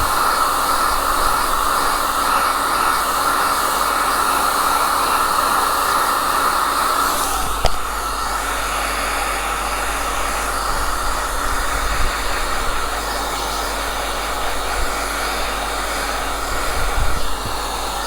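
A heat gun blows steadily while warming the adhesive backing of a Fiat 500 badge, a constant close whooshing hum with a brief click midway and no talking.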